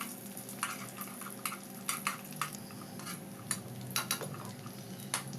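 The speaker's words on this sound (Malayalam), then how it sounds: "എന്നിട്ടിത് നന്നായിട്ടൊന്ന് ഇളക്കി കൊടുത്ത് മുന്തിരിയൊക്കെ നല്ലതുപോലെ വീർത്ത് വരുന്നത് വരെ വാറ്റിക്കൊടുക്കാം" A spoon stirs raisins in a pan for oats milk payasam, giving repeated light metallic clinks and scrapes at an uneven rhythm, close and alone over a soft background hum.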